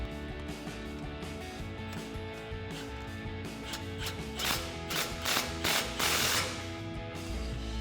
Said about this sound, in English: now we'll snug that up with our 15mm socket